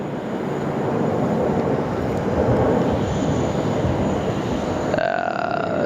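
A Rex Airlines aircraft passes over the fence line at Sydney Airport near runway 16 right, a loud, steady broadband engine roar sustained throughout and easing off at the end.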